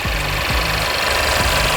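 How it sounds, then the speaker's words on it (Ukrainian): A used car's engine idles at an outdoor auction lot, a loud, steady rumble with a regular pulsing beat repeating roughly every half second, close by and with no voices over it. "Двигун працює досить рівно."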